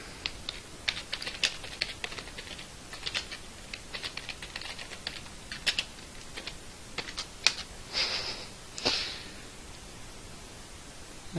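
Clicky keystrokes on a keyboard, typed in irregular bursts of taps with short pauses, close and fairly quiet, ending in a couple of heavier presses.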